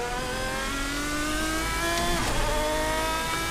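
Lanzo Lamborghini V12 GT1 race car in Assetto Corsa, its V12 holding a steady, rich high-revving drone at moderate volume with a brief shift or rev change midway, no voice over it.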